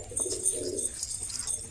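A released pair of large pigeons, one male and one female, bought at Beldanga market, give a low, soft cooing under a steady background rumble, heard briefly and close by.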